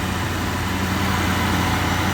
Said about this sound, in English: the engine is idling smoothly and quietly